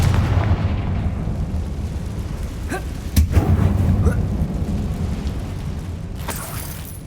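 Booming fire-spell blasts from Confringo in Hogwarts Legacy, heavy explosive thumps that rumble continuously with a few sharper cracks in the middle, loud and near, with no talking over them.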